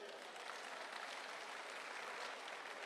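People clap for a detection dog that has just found a bag and sat down during a search demonstration, a steady wash of applause at moderate level with no speech.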